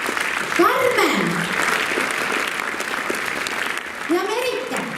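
Audience applause at a children's dance club show, steady clapping throughout with a live announcer's voice over it at the start and again near the end.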